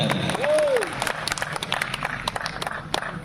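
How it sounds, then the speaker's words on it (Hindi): Audience applause at a Hindi kavi sammelan poetry event in Lormi, with a large crowd: dense, sustained clapping from many hands, opened by a short rising whistle and then continuing steadily at moderate loudness. "तालियों से आपकी इजाजत जरा सलीके से बता दें।"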